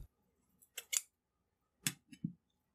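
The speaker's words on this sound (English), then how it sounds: "I'll cut off a piece" Scissors snipping a piece off a copper scrubbing pad for cleaning a rifle bore, a few crisp close cuts in two small bursts separated by a pause, quiet surroundings.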